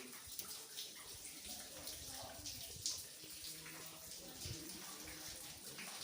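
Faint, steady trickling water, soft and somewhat distant, with some low background noise.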